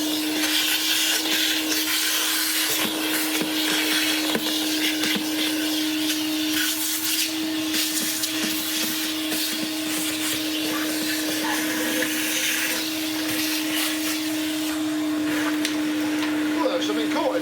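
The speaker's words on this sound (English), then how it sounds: "we'll just give this a quick vacuum off." A Klarpul KL-001 vacuum cleaner runs close by with a steady high whine and rushing airflow. Bumps and shifts in pitch come as it moves.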